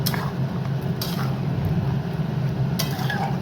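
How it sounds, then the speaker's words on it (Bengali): Pressure-cooked mutton is stirred and sautéed with spices in a pan, with a low, steady sizzle and occasional sharp scrapes and clinks of the spoon against the pan. "এবার এটাকে ভালো করে কষাতে হবে"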